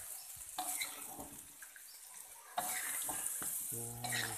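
Snakehead fish sizzles steadily in a hot wok while a utensil scrapes and stirs, with occasional clinks of metal against the wok.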